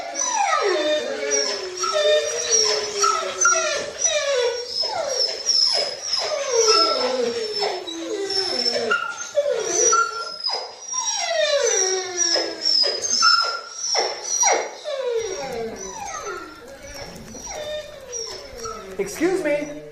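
Tame puppies brought into an animal park shelter howl, whimper and yip continuously and loudly, with rising and falling wavering cries layered over one another throughout.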